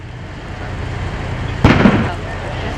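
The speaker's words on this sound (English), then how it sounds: "The explosion or the pop that you heard was the device that they used to shoot, I'm going to say shoot the end off the pipe." A bomb squad robot's tool detonates a pipe bomb outdoors, giving one sharp, loud pop with a short rumbling tail over steady background noise.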